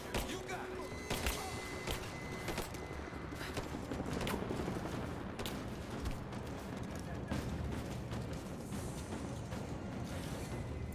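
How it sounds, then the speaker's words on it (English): Enemy gunfire in Rise of the Tomb Raider, dense rapid volleys of shots and thuds from several directions blending into a constant loud battle din with sharp bursts throughout. "It's so unfair that they can shoot through objects."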